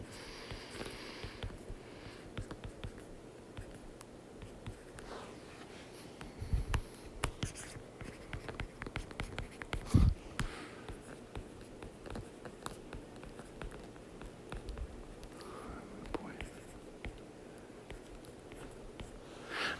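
Pen or marker scratching math problems onto a board, soft irregular strokes and taps running steadily for about twenty seconds, with a few louder knocks and occasional sniffs, no talking.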